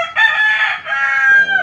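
A Mindanao mestizo rooster crows loudly and close up in two drawn-out, strained calls, with a short cluck in between.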